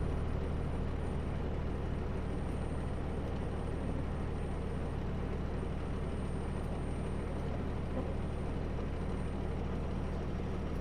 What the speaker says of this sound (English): Truck's doing a regen and it's stinky.